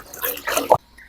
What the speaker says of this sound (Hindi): 8 लीटर पानी या 8 किलो पानी हम लोग इसमें डाल रहे हैं।